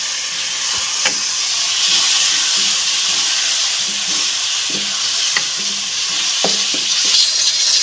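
Spiced masala sizzles loudly in a pan after a splash of water for chicken chana daal, with a steady steamy hiss and occasional spoon scrapes and clinks of stirring throughout.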